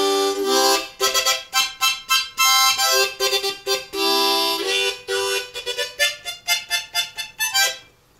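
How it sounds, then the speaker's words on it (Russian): A harmonica is blown in a run of bright, reedy notes, some sustained and others short and rhythmic, loud and close, at an evening performance by a composer and performer. "Также вы можете использовать губную гармошку для того,"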